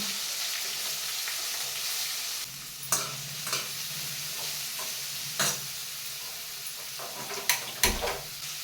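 Cumin and mustard seeds crackling with lemon pieces frying in hot oil for a pickle, a steady close sizzle broken by several sharp pops and clinks of a utensil against the pan.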